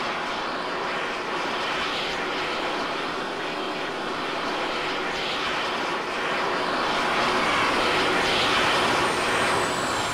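Fixed-wing aircraft landing on base in the military video game Arma 3, a steady droning engine roar that swells slightly louder toward the end, heard alone with no voices.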